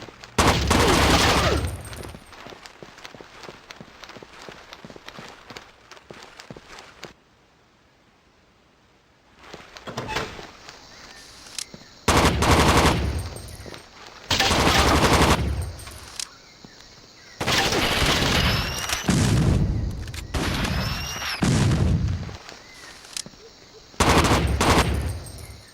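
Gunfire in the GameCube video game Rainbow Six 3 comes in loud, close bursts of rapid automatic shots separated by quieter pauses, with little talk.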